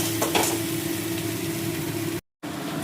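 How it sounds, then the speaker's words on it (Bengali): Spice mix for an egg curry with cauliflower and potato sautés in a pan, a steady close sizzle with a low background hum, briefly cutting to silence near the end. "মশলাটাকে কষিয়ে নিচ্ছি"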